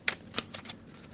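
A few quick riffling bursts of a tarot deck being shuffled, two sharp flurries followed by softer flicks, close and quiet, with no voices.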